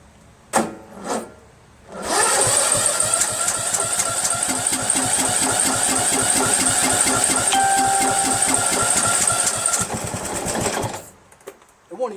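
A Yard Machines 1742 lawn tractor engine cranks with a few short bursts, then catches and runs roughly for about eight seconds with a rapid mechanical clatter before cutting out.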